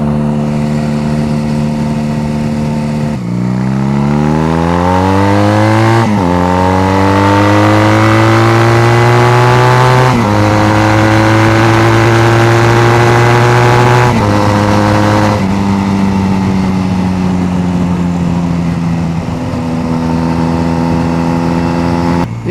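A Honda Rebel bobber motorcycle engine roars loudly and continuously while being ridden, rising in pitch through repeated gear changes, with short dips between each climbing rev. It is close-up and dominant the whole time, with no talking.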